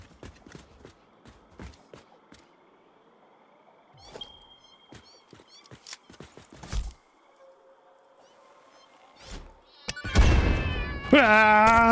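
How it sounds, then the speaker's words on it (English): Kittens meowing in the factory-building game Satisfactory, a few high, wavering mewing calls rising near the end over clicks, footsteps and scattered game noises. "I hear kittens as well."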